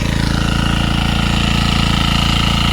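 A tractor engine runs steadily at a rough, thudding idle while ploughing a rice paddy, loud and close, with a constant rhythmic chug.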